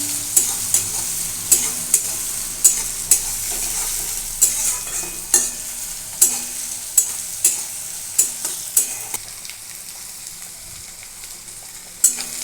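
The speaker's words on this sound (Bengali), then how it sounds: "কেটে রাখা পেঁয়াজটা আমি একটু ভেজে নেব এটা একটু আমি ভালো করেই ভেজে নিচ্ছি" Chopped onions frying in a pan while a spatula knocks and scrapes against the metal in a fairly regular rhythm of about one stroke per second, over a low sizzle, close and clear with no talk.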